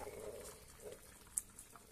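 Chicken stew simmering in a pot after the heat is switched off, giving faint, soft bubbling with a few small isolated pops against near silence.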